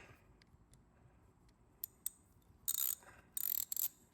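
An SK ratchet wrench from a flea market, which turns in both directions, clicks a few times and then gives two longer bursts of rapid ratcheting, close and fairly loud.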